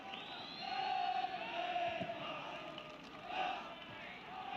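Football crowd at Vicarage Road, Watford, for a European match, a steady roar of thousands with swelling shouts and cheers, loud throughout with a surge near the end and commentary over it.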